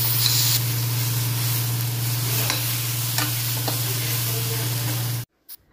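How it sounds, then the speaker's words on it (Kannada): Ginger and paneer masala paste fries in a pan with a loud, steady close sizzle and spatter over a constant low hum, with faint stirring scrapes, and stops abruptly near the end. "ನೋಡಿ, ಇವಾಗ ಇದನ್ನೆಲ್ಲ ನೀಟಾಗಿ ಫ್ರೈ ಮಾಡ್ಕೊತೀನಿ"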